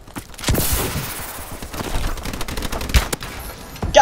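Bursts of machine gun fire in the shooter game Call of Duty: Advanced Warfare, a sustained rattling volley with sharper cracks, loud and close throughout, with no talking.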